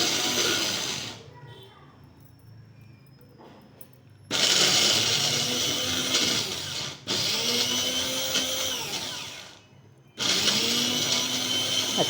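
A mixer grinder whirs loudly in three separate bursts, grinding a paste for tendli (ivy gourd) masala curry, with quiet pauses between runs.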